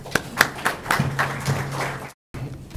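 Audience applause at a university panel discussion on mining in Peru, sparse individual claps gathering into a modest round, fairly quiet and indoors, over a low steady hum.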